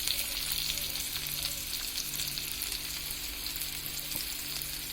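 Onions cook in a pan with a constant soft sizzle of frying oil and a faint low hum beneath, heard close and unbroken, with no voices.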